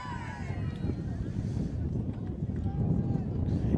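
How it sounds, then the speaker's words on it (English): Gusty wind buffets the microphone at a cold sophomore high school football game, a steady low rumble beneath faint background voices. "It is very really windy."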